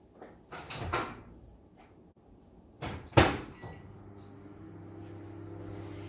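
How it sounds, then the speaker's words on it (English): A microwave oven door clunks shut, then the microwave starts warming raspberry jam, its low steady hum running on quietly to the end. "I'm going to put this in the microwave for a few seconds."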